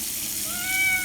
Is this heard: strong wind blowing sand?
no